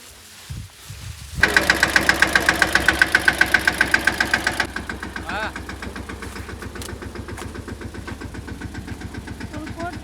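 A diesel tractor engine chugs with a rhythmic knocking beat, louder and revving at first, then settling into a steady idle.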